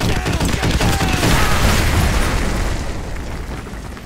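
Danger-close artillery strikes in the Call of Duty: Modern Warfare 2 remastered campaign, heard as loud, continuous rumbling explosions with heavy booms that roll into each other and fade slightly toward the end.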